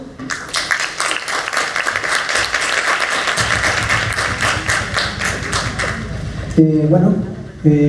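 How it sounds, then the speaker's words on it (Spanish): An audience at a medical scientific congress applauds in a dense, sustained wash of clapping for several seconds, which fades as a voice begins speaking near the end. "Por favor, un fuerte aplauso."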